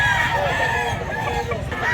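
A rooster crows nearby at a rural Philippine fowl yard, its call clear over ongoing talk and light farmyard background noise.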